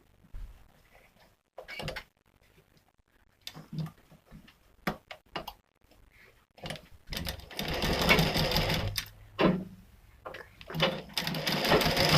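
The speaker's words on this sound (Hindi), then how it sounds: "ठीक है, चलिए इसको सिलाई करते हैं।" A sewing machine stitches a katori cut blouse in short bursts of rapid mechanical rattling, separated by pauses and soft handling clicks, then running longer and louder toward the end.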